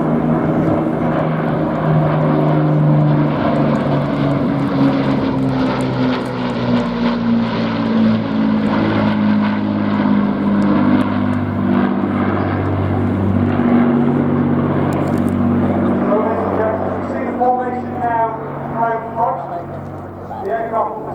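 A Spitfire of the Battle of Britain Memorial Flight sweeps past at the Royal International Air Tattoo 2022, its piston propeller engine droning loudly and continuously, shifting in pitch as it passes, under a commentator's voice.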